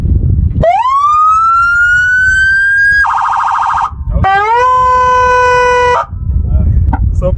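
A loud, close police siren on a Mustang Barricade sweeps upward into a sustained wail, switches to a rapid warbling yelp, then returns to a steady high tone before cutting off.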